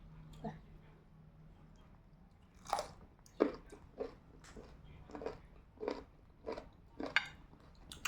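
Crunchy pickled fruit such as jujube is bitten and chewed up close, a quiet series of about eight crisp crunches in a fairly even rhythm with faint background murmur.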